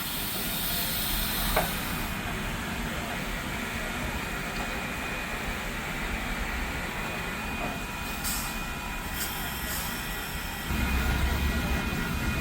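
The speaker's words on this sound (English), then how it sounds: "Here we see the engineer creeping the locomotive forward" Union Pacific Big Boy 4014 steam locomotive creeping forward hisses and rumbles steadily at moderate distance, with faint clanks and a brief burst of louder rumble near the end.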